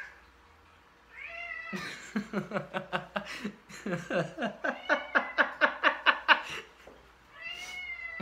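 A cat meows and chirps in a fast run of short, repeated calls, fairly close, with a longer meow at the start and end.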